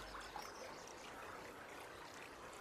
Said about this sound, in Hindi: यहाँ पानी की गूंज सुनाई दे रही है।